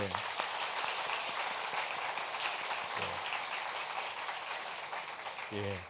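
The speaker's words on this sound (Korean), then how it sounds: "저희가 박수로 환영하겠습니다" A church congregation applauds to welcome new members during a Sunday service, a soft, continuous rain-like patter of many hands heard from a distance, with a voice speaking briefly at the start and again at the end.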